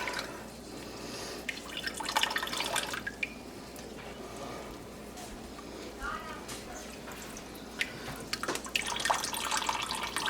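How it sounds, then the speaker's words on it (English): Liquid drips and trickles from hot farmer's cheese curds being squeezed by hand, a scattered, uneven pattern of small splashes at close range over a soft background. "we're just going to give it a squeeze and get some of the liquid out there"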